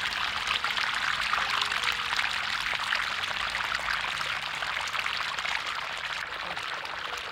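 Pump-driven water gushes from a hose onto old farm soil in the Pica desert oasis, a steady, close, unbroken rushing pour with no talking.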